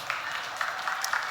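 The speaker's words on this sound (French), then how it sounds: "vous pouvez l'applaudir" Audience clapping for a speedrunner being introduced at a live event, a soft, steady patter of applause with a few sharper claps standing out, fairly quiet.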